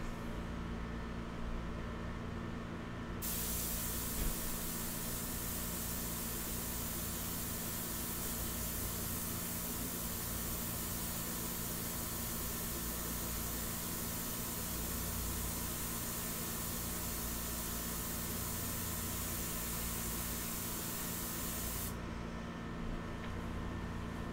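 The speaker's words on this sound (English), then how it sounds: "Always test the first couple of sprays, not on the artwork." An airbrush spraying India ink onto paper gives a steady, close hiss that starts abruptly, holds evenly for about twenty seconds, then cuts off, over a constant low compressor hum.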